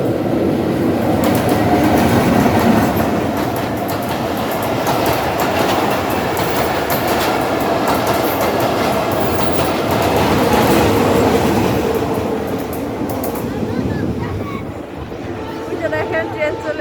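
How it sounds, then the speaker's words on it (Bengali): A train passes close by through a rural setting with jackfruit trees, producing a loud, continuous rumble and wheel clatter that fades toward the end, with a voice talking over it. "আর এই যে এদিকটাতে দেখেন ট্রেন যাচ্ছে।"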